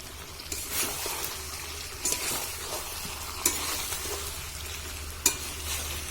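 Mutton and potatoes stir-fried in a pan over a wood-fired stove: a steady close sizzle punctuated by sharp spatula scrapes every second or so, with no voices.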